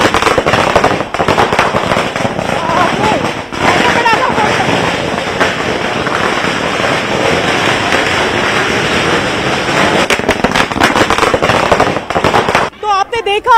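Firecrackers burst over dhol and nagada drums at a Congress party celebration in Chhattisgarh marking a new state party president, a loud, dense and continuous crackle of rapid pops running nearly the whole time before cutting off at the end.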